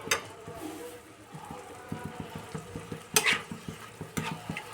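Spice paste for a broccoli and paneer curry being stirred and sautéed in oil over low heat, a faint continuous sizzle punctuated by regular soft scraping strokes of the spatula against the pan.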